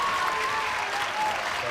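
A crowd at climbing competition finals applauds steadily, a dense, loud wash of clapping and cheering that holds at the same level throughout.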